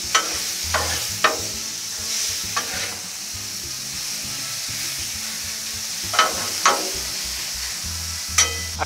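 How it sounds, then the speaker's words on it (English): Steak and shrimp sizzle steadily on a hot Blackstone griddle with occasional sharp scraping clatters of a spatula; frying hiss fills the whole stretch, close and fairly loud. "Man, that steak just a sizzling over here."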